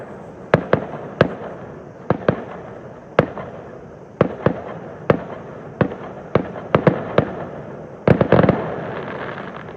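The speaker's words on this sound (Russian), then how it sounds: "Что вы знаете, тут еще и салют." Sharp fireworks bangs go off one after another at irregular intervals in Italy, about a dozen loud cracks and pops over a low background rumble, with a burst of several near the end.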